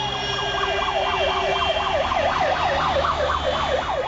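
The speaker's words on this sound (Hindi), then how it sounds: "पुलिस की गाड़ियों से निकलती सायरन और हूटर की आवाज।" Police vehicle sirens and hooters from a red-beacon VIP convoy on an Indian road give a continuous, loud rising-and-falling wail that repeats steadily throughout, over a low traffic rumble.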